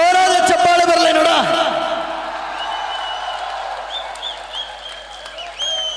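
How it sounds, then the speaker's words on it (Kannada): Fans applaud at an outdoor kabaddi final, a broad wash of clapping and crowd noise with whistles, beginning under an announcer's loud voice and continuing on its own. "ಗೊಬ್ಬುರವರ ಅಭಿಮಾನಿಗಳ ಜೋರಾದ ಚಪ್ಪಾಳೆ ಬರಲಿ ನೋಡ"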